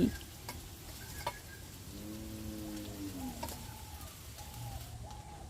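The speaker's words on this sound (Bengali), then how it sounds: "দিয়ে ভালো করে কাঁচা মশলাগুলো 2 থেকে 3 মিনিট ভেজে নেব" Garlic paste, ginger-cumin paste and chopped tomato fry and sizzle in hot oil for a crab curry, a steady close crackle with stirring, while a pigeon coos faintly in the background.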